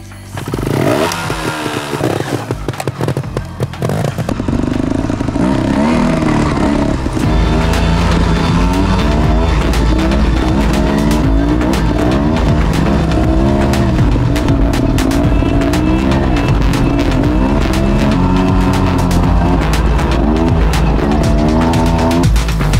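A motorcycle rides through high mountains, its engine loud and close, rising and falling in pitch as it revs through gears, with sharp bursts at the start and a sustained roar throughout, no talking.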